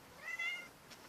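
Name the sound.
cat meowing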